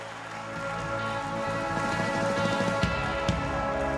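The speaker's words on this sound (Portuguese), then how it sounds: "Você pode aplaudir bem forte a Jesus?" A church congregation applauding Jesus during a Portuguese-language sermon: dense, steady clapping from many hands fills the space at a continuous even level, with a couple of sharper claps standing out near the end.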